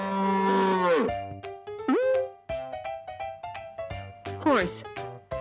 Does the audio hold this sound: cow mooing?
yes